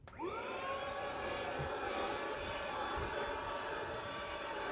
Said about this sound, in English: We will just get my little vacuum cleaner out. I'm just going to turn this on